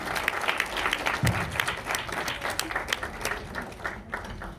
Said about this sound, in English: Give her a big round of applause, please.